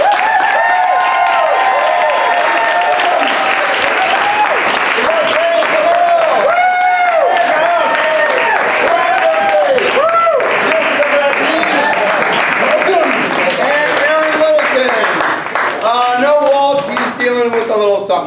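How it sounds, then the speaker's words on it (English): A live audience at an improv comedy show claps and cheers to welcome performers onto the stage, a dense, steady wash of applause with voices mixed in beneath it. "with a huge round of applause, please bring up the rest of Einstein Simplified"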